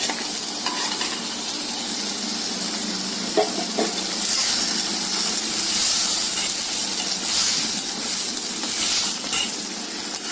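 Egg pepper gravy being stirred in a pan, with a steady sizzling hiss and soft scraping, swelling slightly in bursts throughout, close and alone with no talking.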